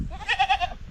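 A goat bleats in a rural village, a short wavering bleat with a few pulsing cries, close and clear over faint background noise.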